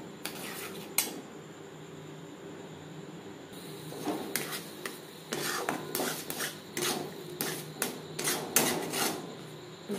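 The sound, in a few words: stirring chhana with jaggery in a pan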